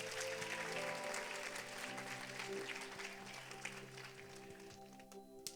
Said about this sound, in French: Vous pouvez applaudir le Seigneur.